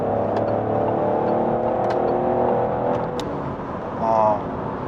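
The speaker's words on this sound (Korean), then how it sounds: "추월 가속을 한번 해보겠습니다." A Peugeot 3008 with a 1.2 gasoline engine accelerates to overtake, heard from inside the cabin as a steady, moderately loud engine drone and road hum, with a voice speaking over it.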